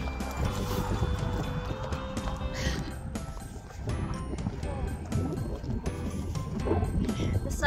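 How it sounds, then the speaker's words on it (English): Strong wind sweeping down a valley over a frozen lake, a steady loud roar buffeting the microphone throughout with faint voices in the background. "the wind comes in the valley here and just sweeps in"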